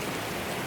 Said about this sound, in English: It's pretty cool waterfall just up here on the side, coming in from a little side stream